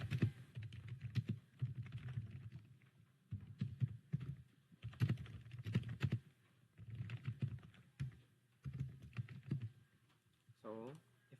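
Laptop keyboard typing in irregular bursts of soft key clicks and taps, with pauses in between, close by, and a brief voice near the end.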